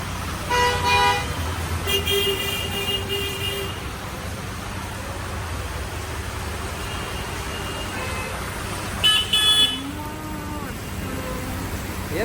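Several car horns toot and honk in a rainy-day traffic jam on the road to Gokarna temple in Karnataka, short bursts repeating over a steady roar of traffic with occasional voices nearby.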